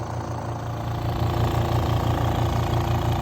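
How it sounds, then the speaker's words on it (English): Steady drone of a generator and air compressor running together on a dive boat deck while scuba tanks are topped up, loud, close and continuous with a low rumbling throb, no voices. "the generator and air compressor is running, so we're topping up the tanks"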